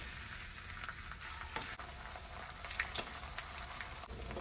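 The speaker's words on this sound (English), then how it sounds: "Now I'm going to continue with the frying process." Quiet, continuous sizzling and crackling of sweet plantains frying in oil, with occasional soft pops and clinks.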